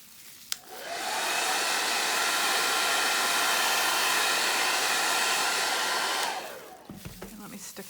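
A heat dryer is switched on and roars steadily for about five seconds while drying alcohol ink on vellum, a loud, close, even whoosh that cuts off abruptly, followed by faint handling noises.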